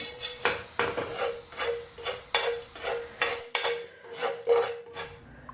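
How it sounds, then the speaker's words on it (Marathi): Whole spices dry-roasting in salt in a pan over low heat, a near, repeated dry scraping and rattling in steady rhythmic strokes, about one every half second, with no voices. "इथे मी कमी गॅसवरती मिठामध्ये हा चांगला भाजून घेते"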